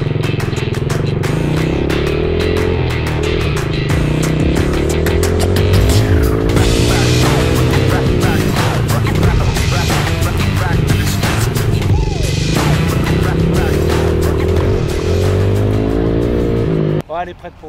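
An 85cc motocross motorcycle engine runs loudly and continuously nearby, its pitch rising and falling as the rider accelerates, with people talking over it before it cuts out at the end.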